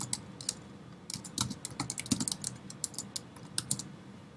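A password being typed on a computer keyboard, heard as quiet, irregular bursts of key clicks in quick runs with short pauses between them.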